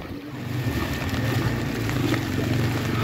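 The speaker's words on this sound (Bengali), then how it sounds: "উপশহরের মেইন রোডের উপর দিয়ে নৌকা চলছে।" A boat moving through floodwater on a main road in Sylhet, a low steady engine drone with watery swishing and wind noise, close and continuous without speech.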